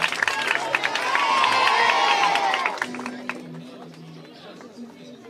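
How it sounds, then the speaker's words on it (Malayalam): Children at a convention's children's meeting clap and cheer together, a loud, dense burst of crowd noise that swells over the first three seconds and then fades into scattered voices and chatter. "എല്ലാവരും എനിക്കൊരു കൈയടി കൊടുത്തോട്ടെ. ഹുറേ എന്ന് പറഞ്ഞു."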